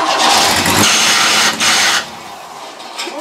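A Black Widow Monster trike engine cranks and catches on a jumper battery with a charger attached. A loud, rough, broadband roar holds steady for about two seconds with a brief dip, then drops to a quieter running note.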